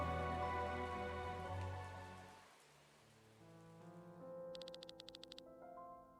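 Rain falls steadily in the fantasy RPG Chained Echoes under layered game music, which drops to a hush midway before a softer melody and a brief run of bright chiming ticks return.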